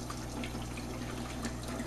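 Water running steadily into a pot for a concentrated ramen broth, a soft continuous trickle and splash close by with no voices.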